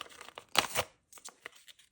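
A paper surprise packet torn open by hand, a short burst of ripping and crinkling paper near and fairly quiet, followed by a few soft rustles.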